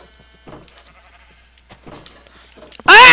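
A Minecraft sheep in a pen gives one loud, close bleat at the very end, after quiet scattered game sounds.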